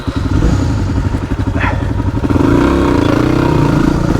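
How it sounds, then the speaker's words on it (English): A motorcycle pulls away on a ride to a swimming hole, the engine revving up loud and close, with some clatter and thumps as it takes off. "The way I take off on my bike is hilarious."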